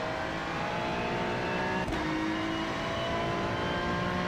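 A race car engine drones at high, steady revs while lapping Mugello in the iRacing sim, a continuous buzzing tone with one brief gear-change blip near the middle, no voices.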